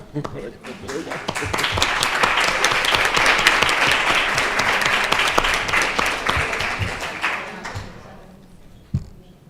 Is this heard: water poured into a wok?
no